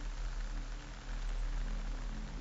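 Steady rain from the Metal Gear Solid 3 remake falls as an even, soft wash of hiss with a low rumble beneath, unbroken and fairly quiet throughout.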